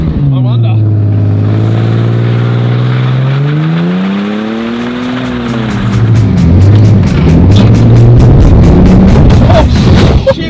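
Car racing around a homemade dirt track, engine note rising and falling as it revs through the turns and then roaring loud and close, with a rapid rattling chatter late on.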